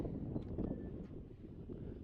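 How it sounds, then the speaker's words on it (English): Wind gusting across an outdoor high school boys' soccer field, a low rumbling buffet against the microphone that swells and eases, with faint distant sounds beneath. "not only is it a windy day today"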